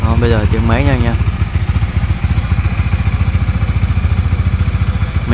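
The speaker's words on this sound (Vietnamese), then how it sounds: "Bây giờ tiếng máy nha anh em." A 2022 Honda Winner X motorcycle running on Nomad 10W40 fully synthetic oil idles with a steady, rapid, even engine chug; a voice speaks briefly over it at the start.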